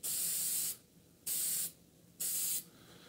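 Three bursts of spray paint laying a very light green coat onto a guitar amp, each hiss lasting under a second with short pauses between, close and steady.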